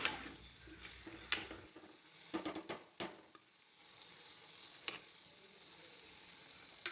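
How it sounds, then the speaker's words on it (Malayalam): Prawns coated in masala are stirred in a hot pan with a metal spoon, which clinks and scrapes against the pan in sharp, scattered strokes over a soft, steady sizzle. The sound is close and quiet, with no one talking. "നമ്മുടെ മസാലകളും ചെമ്മീനും ഒക്കെ തമ്മിൽ നന്നായിട്ടൊന്ന് യോജിപ്പിച്ച് കൊടുക്കണം"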